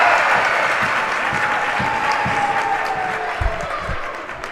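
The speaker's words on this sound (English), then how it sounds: "The crowd tells you it's good." A crowd at a girls high school basketball game applauds and cheers right after a made free throw, a dense wash of clapping that fades gradually, with a few thumps near the end.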